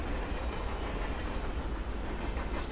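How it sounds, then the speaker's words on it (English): A train on the Counter-Strike map Train rolls past in a continuous, loud rumble with a rattling clatter, heard during an ESL Pro League esports broadcast, with no speech over it. "Train? Yeah, it is train"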